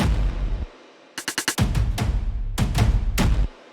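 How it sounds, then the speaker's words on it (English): Heavily distorted, booming war drum hits pound in a quick flurry followed by slower crunchy strikes, loud and aggressive with gritty saturated tails. "these are very distorted war drums"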